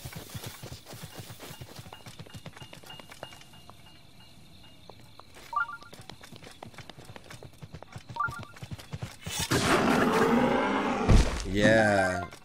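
Horse hooves from Breath of the Wild, a steady close clip-clop of riding that runs throughout. A louder, rushing stretch of game noise swells near the end.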